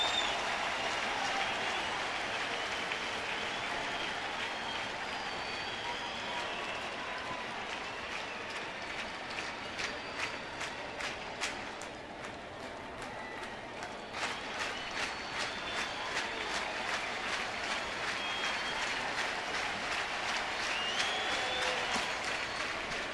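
Cardinals home crowd at a Milwaukee-St. Louis baseball game cheering and clapping in a sustained roar, rhythmic rapid clapping rising midway, with a faint voice underneath.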